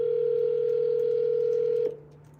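A phone line's steady dial tone hums loud and close for about two seconds, then cuts off abruptly, leaving faint line noise.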